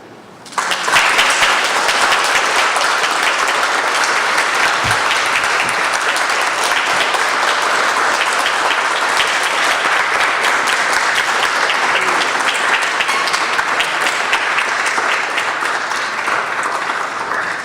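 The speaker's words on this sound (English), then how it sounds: "Can we have another round of applause for Julie T. Underhill and Nelly Wong?" Audience at a poetry reading breaks into loud, sustained applause that begins abruptly and holds steady for over fifteen seconds, a thick wash of clapping with no voices above it.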